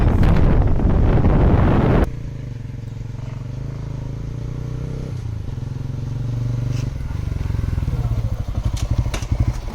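A motorcycle rides along an empty open road, its engine droning steadily and close under heavy wind buffeting on the microphone.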